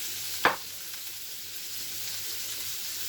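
Carrots frying in a pan, a steady, even sizzle throughout with one sharp clink near the start.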